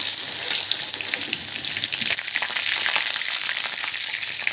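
Garlic and cumin fry in hot oil in a kadai for a pepper stir-fry, giving a steady, close crackling sizzle with bursts of popping throughout and no voices.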